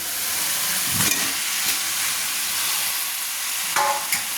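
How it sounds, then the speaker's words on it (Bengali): Potatoes are stirred through a spiced masala in hot oil for chicken curry, a steady close sizzle with a few scraping stirs of a spoon against the pan. "আলুটাকে আমি কষিয়ে নিচ্ছি"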